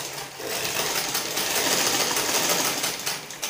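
A sewing machine runs steadily, stitching long loose gathering stitches on layered tulle for a baby's ball dress, a continuous close mechanical whir with no talking.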